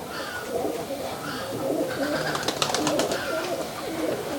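Female Giribaz pigeon, a Rajshahi tumbler breed, cooing in low, rolling murmurs that run steadily through the clip amid a busy, noisy loft background, with brief sharp clicks near the middle.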